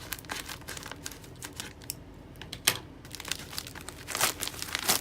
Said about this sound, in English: Got scissors here. Just cut it through.